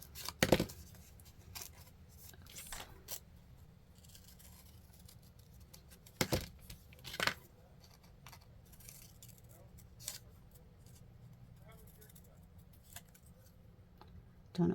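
Paper being cut with scissors for an art piece, partly snipped and partly ripped by hand: scattered sharp snips and a few louder cuts at irregular intervals, fairly close but quiet overall.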